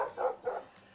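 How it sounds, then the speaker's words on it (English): A dog barks in the background outdoors during a garden tour, with two quick, fairly faint barks in a row and a softer trailing yip. "Excuse the dog barking in the background."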